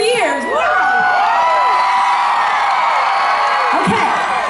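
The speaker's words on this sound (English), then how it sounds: "the goal is for y'all to sing and scream so loud that they can't hear the three of us" A large concert crowd in Greeneville, Tennessee screams, whoops and cheers continuously and loudly, a dense wall of high-pitched yelling from many voices that fills the whole stretch.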